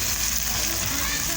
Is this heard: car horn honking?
no